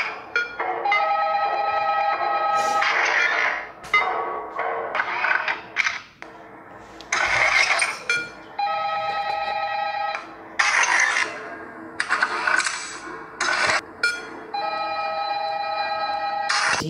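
A telephone in the game Five Nights at Candy's 2 rings loudly in repeated bursts separated by short gaps, mixed with clicks and mechanical creaks.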